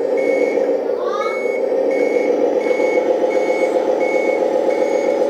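Customized LESU 1/14 scale RC Scania tractor truck with metal chassis and Hercules cab driving along, a steady electric motor and gear whine under repeated evenly spaced reversing beeps, close and continuous.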